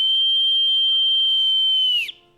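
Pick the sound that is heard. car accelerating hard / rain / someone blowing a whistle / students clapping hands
someone blowing a whistle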